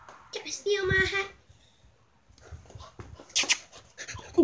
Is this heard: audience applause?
no